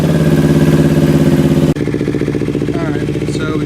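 A warmed-up Kawasaki Ninja 250 motorcycle with freshly shimmed carburetor needles runs at a loud, close, steady idle. The engine tone drops midway and keeps running under a brief voice.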